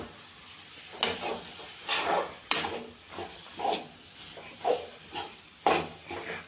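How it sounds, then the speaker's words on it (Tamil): Egg being stirred into a pan of radish kootu: a series of scraping, sizzling strokes come in irregular bursts about every half second to second, close and moderately loud, with a soft frying hiss between them. "முட்டையை நல்லா கிண்டி விட்டுக்கலாம்"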